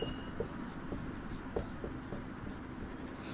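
Chalk scratches on a board in short, repeated strokes, faint and close, during a classroom lesson with soft room hum underneath.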